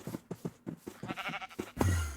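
A sheep in TerraFirmaCraft gives one short, close bleat at the end, preceded by a run of quick clicking and rustling game sounds.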